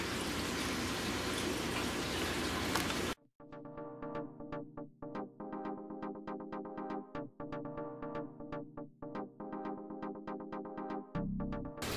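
Water running during an aquarium water change in a fishroom, a steady rushing pour that stops abruptly, followed by a long series of close, rhythmic drips and trickles.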